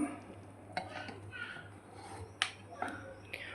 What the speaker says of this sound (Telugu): ఇప్పుడు మనం ఇది కుక్కర్ మూత పెట్టేసుకుందాం